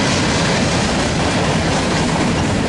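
A freight train with a rear DPU locomotive rolls past at Daggett, a loud, steady, close roar of wheels and rail noise that fills the whole stretch with no pauses.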